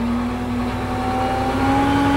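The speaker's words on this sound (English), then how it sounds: "I am going to throttle up." A diesel engine on an MT600D held at wide-open throttle around 1400 RPM gives a loud, steady drone with a constant pitch and a faint rising whine above it.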